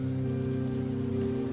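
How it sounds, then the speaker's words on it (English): Soft rain patters steadily on a forest floor and foliage, a continuous even hiss with no distinct drops standing out, heard alone beneath a low sustained drone. "the only noises were my own footsteps and the soft pitter-patter of raindrops."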